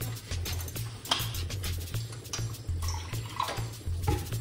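Tap water runs and splashes while something is rinsed out in a sink, an uneven close gush with small drips and clatters over a low hum.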